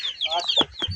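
Small chicks peep in a quick run of high, thin chirps close by, with lower hen clucks mixed in and a brief rustle.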